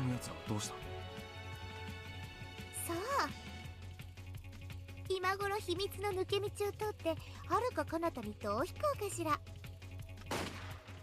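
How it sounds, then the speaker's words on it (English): Gunshots ring out in the Higurashi visual novel, a few sharp, isolated cracks spaced several seconds apart over a bed of background music. "Another gunshot."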